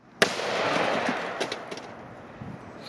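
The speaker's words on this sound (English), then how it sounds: "put them at the angry end of a Taurus Raging Bull chambered in 454 Casull" A single loud blast from a Taurus Raging Bull revolver in .454 Casull rips into a row of VHS tapes, followed by a rolling echo and some scattered debris impacts.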